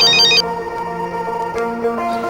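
A mobile phone ringtone sounds as a customer calls, a loud electronic melody with a bright chirpy burst at the start, then sustained tonal notes continuing steadily.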